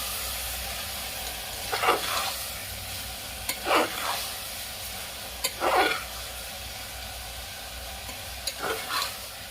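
A spoon scrapes and stirs coriander and cumin powder in a hot frying pan in a home kitchen, four distinct scraping strokes over a steady low sizzle and hiss.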